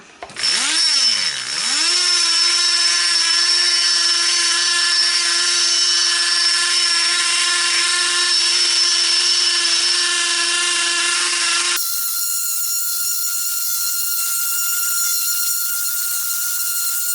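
A Dremel rotary tool polishes the cylinder of a Stihl 038 chainsaw at high RPM. It makes a loud, sustained high-pitched whine that spins up at the start, holds steady, then drops to a slightly different tone near the end.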